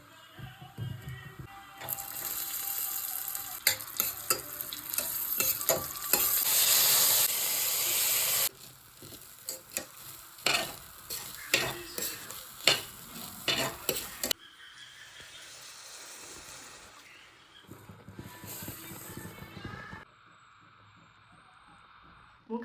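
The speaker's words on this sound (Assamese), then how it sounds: "আজি প্ৰথমে চাউলখিনি ভাজি ল'ম ঘিউত" Rice fries in ghee in a pan, a hissing sizzle broken by repeated scraping strokes of a spoon stirring, loud at first, then quieter in separate bursts.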